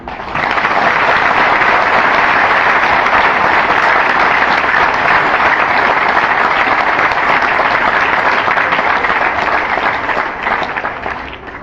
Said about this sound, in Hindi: यदि आप जोर से तालियां बजाएंगे